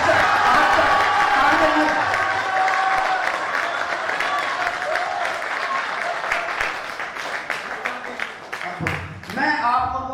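Sustained applause from the audience at a Hindi poetry recital (kavi sammelan) fills the hall with dense clapping that slowly thins, with a voice speaking briefly near the end as the clapping fades.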